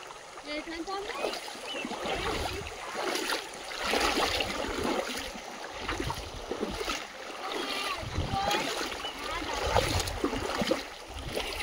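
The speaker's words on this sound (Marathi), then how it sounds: "फुल वाहता पाणी स्वच्छ एकदम." Clean water flows in a full stream near a village, a continuous rushing and splashing murmur close by, rising in gentle surges, with faint voices in the background.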